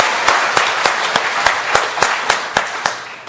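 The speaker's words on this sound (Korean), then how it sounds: "하나님께 영광의 박수를 보내겠습니다." A church congregation claps in unison, a steady series of about eleven sharp, even beats close by, with no talk over it.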